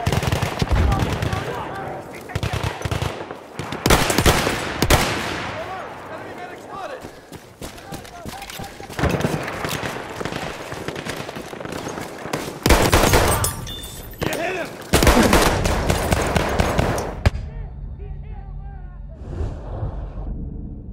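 Bursts of automatic machine-gun fire and scattered gunshots from a Battlefield 1 hardcore conquest match in the Argonne Forest, loud and dense, with several rapid volleys across the stretch and battle noise continuing between them.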